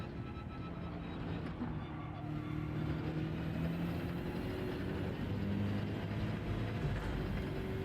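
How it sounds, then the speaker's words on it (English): A race car engine in a racing video game drones steadily, with a sustained mid-range engine note and gentle pitch shifts as it runs at speed, moderately quiet and heard without talk. "It does sound quite nice, this car."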